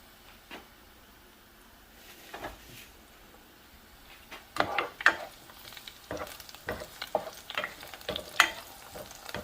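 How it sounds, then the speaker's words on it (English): Onions fry in a pan while someone stirs them. A quiet sizzle sits under irregular clanks and scrapes of the utensil, which grow louder and busier in the second half. No one speaks. "Let's give the onions a stir."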